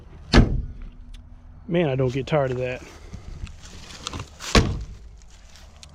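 A single heavy thunk of a 1959 Chevy Biscayne door swinging shut near the start, then someone speaks briefly and a second solid door thud lands near the end.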